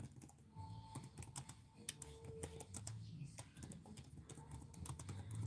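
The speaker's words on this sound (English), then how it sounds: "Just typing on my laptop because I don't know, I can't type on my phone for some weird reason." Someone types on a laptop keyboard in rapid, irregular bursts of clicks, close and fairly quiet, with faint background sound and tones.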